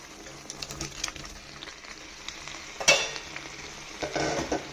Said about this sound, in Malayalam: നമ്മുടെ ചിക്കൻ ഇട്ട് കൊടുക്കണം